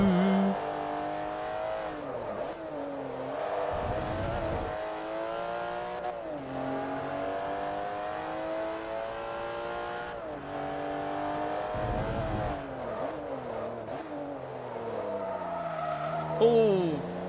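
A race car in Forza Motorsport 3 brakes hard and skids, its whining engine pitch sliding down and back up as tires squeal in loud, steady bursts across the stretch.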